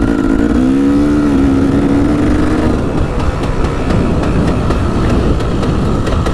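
A dirt bike engine running lean on its carburetor roars steadily and loudly close by while being ridden around a dirt track, its pitch rising briefly at the start before settling into a constant drone.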